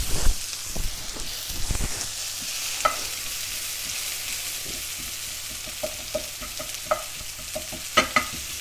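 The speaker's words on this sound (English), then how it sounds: "I do love the sound of a good sizzle." White onions sizzle and fry in hot oil in a pan while being stirred, a steady crackling hiss punctuated by scraping stir strokes and occasional louder pops.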